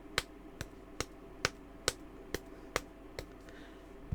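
Fingertips tapping on a wrist, nine light, evenly spaced taps close by in a steady rhythm over a faint background hum, with no talking.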